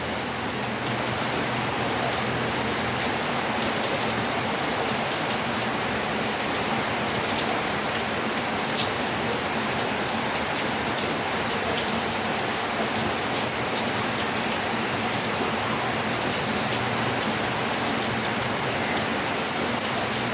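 Rain falls steadily and heavily, a dense, even hiss of drops on surfaces that continues unbroken and without voices.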